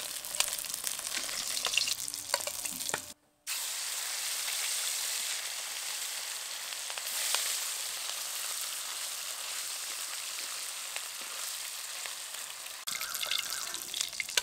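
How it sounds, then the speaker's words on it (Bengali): Pieces of katla fish fry in hot oil in a pan, giving a continuous dense sizzle with one brief break, and no one speaks. "মাছগুলো কিন্তু খুব বেশি কড়া করে ভাজি না, একটু লালচে করে ভেজে নিয়েছি।"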